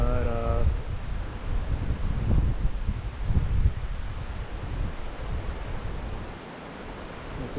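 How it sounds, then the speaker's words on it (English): A mountain waterfall at Forest Falls in California gives off a steady broadband rush with a low rumble, heard from an overlook alongside gusty wind buffeting the microphone. "there's the waterfall, top tier"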